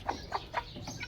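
Native hens cluck in a short series of four evenly spaced, fairly loud calls close by, with faint farmyard background and no talking.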